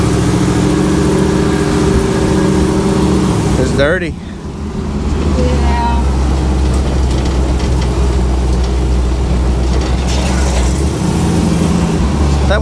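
A pickup truck's engine drones loud and steady while riding, heavy wind buffeting the microphone throughout, with a brief dip and a few spoken words partway through.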